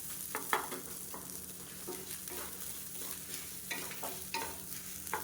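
Grated coconut fries in a pan for a spicy okra kulambu, with a steady low sizzle and repeated scraping stir strokes of a spoon against the pan, close up and without talk.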